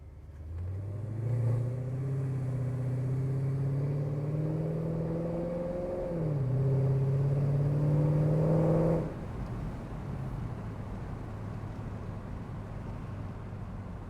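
Engine of a modified Mercedes E55 AMG heard from inside the car on a late-night drive, a steady low drone that climbs in pitch, dips at a shift, rises again and then eases back to a cruising hum.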